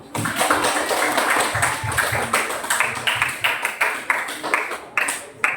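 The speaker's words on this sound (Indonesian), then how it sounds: "Kelompok ini tepuk tangan." A math classroom of students clapping for a group, a dense scatter of hand claps running steady for several seconds, then thinning into fewer, more separate claps toward the end.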